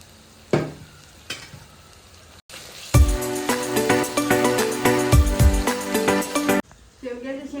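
Tomatoes tipped into hot tempering oil with onion and salt burst into a loud, steady sizzle, stirred with a clattering spoon, set between a few sharp kitchen knocks.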